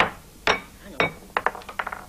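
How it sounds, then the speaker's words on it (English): A hammer taps at a tough egg shell in a series of sharp, close knocks: three spaced strikes, then a quicker cluster of lighter clinks, each with a bright glassy edge. "All right, use the hammer. Just crack the shell."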